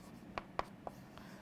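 Marker or pen strokes on a board or paper during a biology lesson, three or four short, quiet scratches in quick succession with no talk.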